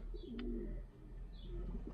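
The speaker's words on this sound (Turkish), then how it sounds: "Yavru güvercinlerimiz." Young pigeons in a pigeon loft give soft, low cooing calls, two short coos separated by a brief pause, fairly quiet and close, with no talking.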